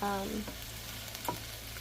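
Stroganoff cooking in a pan gives a low, steady sizzle with a couple of faint stirring scrapes, quiet and close, with no talking.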